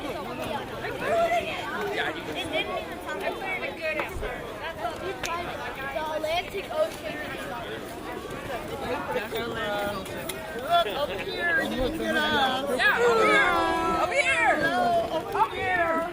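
A crowd chatting and laughing at an outdoor ice art championship youth awards ceremony, with marshmallows and a small fire nearby; a dense, steady babble of many voices close by throughout.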